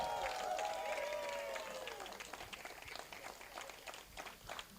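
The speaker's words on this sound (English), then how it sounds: "Give them a big applause" Crowd at the 54th Bonaire Regatta award ceremony in 2021 applauds, a moderate scattered clapping that follows a brief whistle-like tone and tapers unevenly, with voices murmuring underneath.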